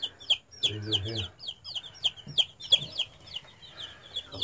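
Chicks in a brooder give repeated high, thin peeps in quick bursts close by, with a few louder chirps scattered through and soft low rustling underneath.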